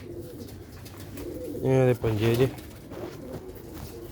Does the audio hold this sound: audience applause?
no